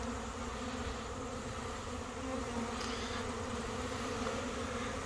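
Dense, steady buzzing of a couple of hundred honey bees crowding a hive frame during a fall swarm, close and continuous with no voices.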